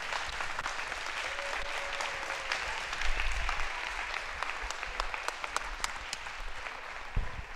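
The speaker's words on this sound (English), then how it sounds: "I want everyone to give them a round of applause." An audience at an Etowah League Tournament awards ceremony applauds the seniors with sustained, even clapping that fills the room, steady throughout and without any voices on top.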